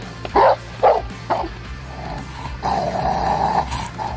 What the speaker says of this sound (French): C'est ainsi qu'un Rottweiler réagit s'il sent que son maître est en danger.